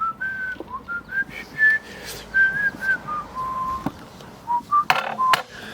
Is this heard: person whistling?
yes